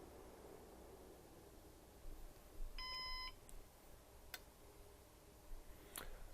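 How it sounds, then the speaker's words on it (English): One short electronic power-on self-test beep from a Synology DiskStation DS1618+ NAS, clear but modest in volume, over a steady background hiss, followed by a couple of faint clicks. "we had a single beep for power on self-test"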